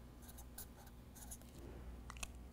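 A pen scratching across paper while diagnostic codes are noted during CAN bus vehicle troubleshooting, coming as soft, close, intermittent short strokes over a low steady background hum.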